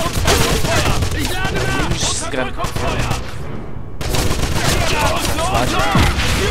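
Loud, sustained suppressive gunfire in a Wolfenstein battle: overlapping automatic bursts and shots with a brief cut to near silence partway through, shouting voices mixed into the din.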